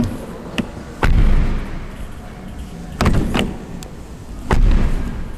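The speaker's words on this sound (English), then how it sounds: "listen to the sound of the door" Doors of a new Porsche 911 shutting: three solid, close thumps spaced a second or two apart, each with a brief ringing tail over a low background hum.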